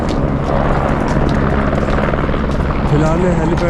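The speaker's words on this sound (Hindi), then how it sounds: "वहाँ से हेलीकॉप्टर उठ रहे हैं सारे हेलीकॉप्टर।" Helicopters lifting off from the Kedarnath helipad in the Himalayan mountains, a loud, steady rotor drone that fills the whole stretch and blends with the noise of a busy outdoor crowd.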